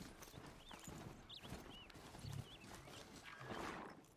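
A mount's hooves clip-clop in a quick, even trot-like rhythm in the Horizon Zero Dawn video game, quiet and mixed with short tonal game sounds and ambient noise.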